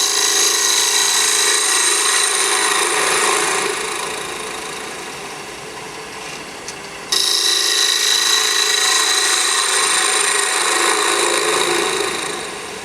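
Woodturning lathe with a turning tool taking push cuts across a pocket mirror blank: a continuous loud shaving hiss and whir that fades down mid-way, cuts off briefly, then returns at full strength.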